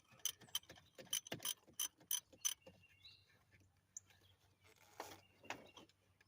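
A ratchet wrench clicks in quick bursts of sharp ratcheting while loosening a spark plug on a Ford F-150 Triton engine in a cramped bay, close and fairly quiet, followed by scattered metallic taps.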